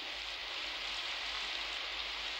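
Rain falling as a steady, even hiss with a faint low rumble beneath, constant and without voices.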